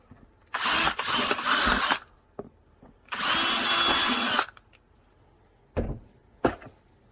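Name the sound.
power drill drilling out a fastener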